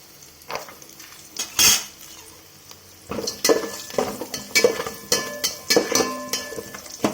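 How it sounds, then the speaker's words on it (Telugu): Spices and cashews frying in a pan for tomato rice, heard as a steady clatter of a spoon scraping and stirring against the metal pan, with loud clanks near the start and repeated knocks through the second half. "కాస్త ఫ్రై అయిన తర్వాత అది ఫ్రై అయిందండి"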